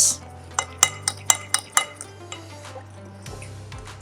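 A spoon or whisk mixes gram flour (besan) batter in a bowl, striking the side in about eight quick, bright clinks, then softer wet stirring sounds close by, with no talking.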